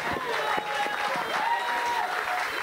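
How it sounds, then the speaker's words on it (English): An audience at a live stage unveiling event claps, with scattered crowd noise and some cheering mixed into a steady run of applause, and tonal sounds drifting over it. "Please, if you love me, clap for him."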